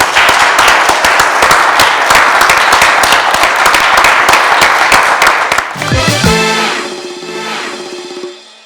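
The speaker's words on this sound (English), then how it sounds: "In fact, we need to clap for that." An audience claps loudly and rapidly for about six seconds, crisp close hand claps over a full crowd patter, then it dies away as voices and laughter take over.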